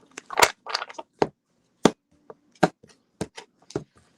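Sharp, irregular papery snaps and riffles of tarot cards being shuffled, a series of quick bursts spread across a few seconds with short silences between, close and fairly loud, no talking.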